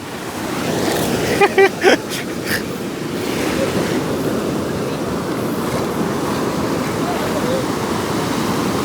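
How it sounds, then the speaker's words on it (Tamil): Sea surf pounding the shore of a coastal fishing village in Jaffna, a steady, loud roar of breaking waves with wind buffeting the microphone and a few brief voices early on. "பாருங்க எப்படி கடல் அடிக்குதுண்டு."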